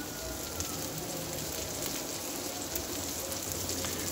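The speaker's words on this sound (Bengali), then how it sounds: "আস্তে আস্তে লো হিটে আবারও 5-6 মিনিট ধরে ভেজে নেব" Beef tawa kababs fry in a little oil on a flat pan over a stove, giving a steady, close, even sizzle that hisses without pause and with no talking.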